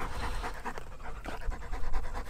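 A hunting dog on a Montana sharp-tailed grouse hunt pants rapidly and rhythmically up close after a long run.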